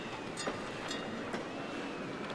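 A train rolls past close to a railway crossing, a steady loud broadband rumble with a few sharp metallic clacks at roughly half-second intervals.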